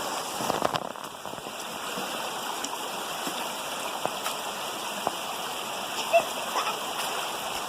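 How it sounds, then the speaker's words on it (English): Shallow stream in Fern Canyon, running water hissing steadily close by while a child splashes in it, with small scattered splats and drips over the constant flow. "Are you still trying to splash?"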